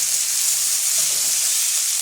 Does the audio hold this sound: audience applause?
no